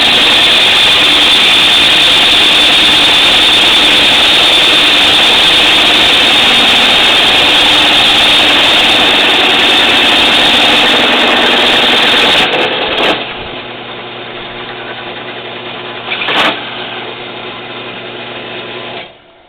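Drill boring through a John Deere seed boot at 500-600 RPM under light pressure, a loud steady whine that runs continuously and then drops to a quieter motor hum as the bit finishes.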